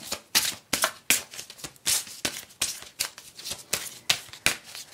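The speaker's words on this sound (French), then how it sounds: "vous pouvez me voir un petit peu brasser les cartes" Tarot cards being shuffled by hand in a brisk series of crisp riffling bursts, about a dozen close, sharp flutters with short pauses between them.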